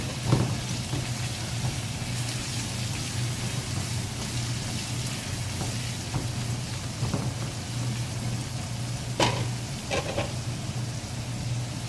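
Shrimp fry in a hot pan, a steady crackling sizzle with a low background hum and a few sharper pops near the end.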